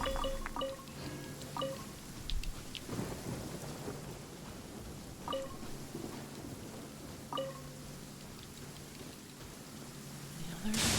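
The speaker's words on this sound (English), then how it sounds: "Oh, good. It's raining." Steady rain falls in the video game Genshin Impact, with drips and rumbling thunder rolling in the distance, a continuous wash of sound with no talk.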